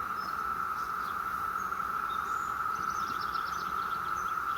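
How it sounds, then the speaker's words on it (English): A steady, loud drone of 17-year cicadas screams without pause behind a beehive being worked, with faint chirps from other insects or birds scattered over it. "that screaming you hear in the background is 17-year cicadas"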